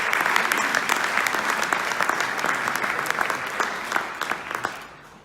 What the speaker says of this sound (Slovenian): lepo pa mu seveda zaploskamo. Bravo!